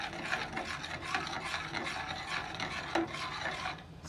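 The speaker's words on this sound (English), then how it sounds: "I'm gonna whisk all of this in" Butter is whisked into a pot of creamy grits, making a steady, rhythmic scraping and rubbing with repeated strokes, close and moderately quiet, with no talking.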